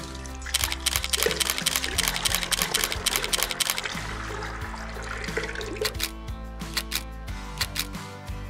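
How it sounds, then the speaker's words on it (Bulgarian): Water pours from a glass into a bowl in a home kitchen, making a steady, close splashing stream that trickles off toward the end, with no talking. "Втората идея е свързана пак със същата чаша вода, но този път ще изливам в тази купа"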